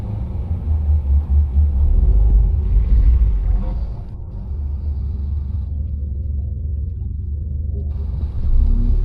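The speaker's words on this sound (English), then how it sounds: "that Corvette behind us, you hear the lopey idle of its motor" Low, steady engine rumble fills the clip, with a heavy idle throb from a nearby Corvette beside a Ford Fiesta ST at an autocross event. The sound rises and falls gently and carries some faint background noise.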